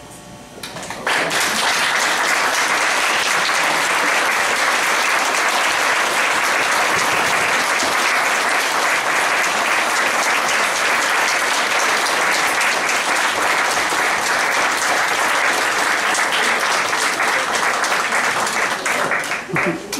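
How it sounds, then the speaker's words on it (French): After a second of near quiet, a seated community audience bursts into sustained, thick applause at a photo unveiling honouring eleven local seniors in Memramcook. The clapping stays loud and even for almost twenty seconds. "Je demanderai à tous ceux qui ont reçu, qu'on a fait le dévoilement des photos, pour juste se lever, qu'on va vous applaudir."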